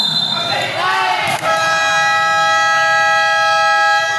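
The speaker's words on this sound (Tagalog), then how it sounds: "Buzzer na lang" A loud, sustained electronic buzzer sounds over crowd noise at a basketball game, holding steady for several seconds after a brief thump.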